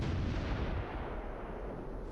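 Heavy, rumbling mortar fire in the Close Combat III war game, set in Berlin, a deep booming blast that fills the clip and slowly fades, loud and without voices.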